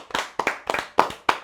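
A group of students in a classroom claps hands in about five quick, sharp bursts at a steady rhythm, each a cluster of several slightly uneven claps, close and clear with no talking.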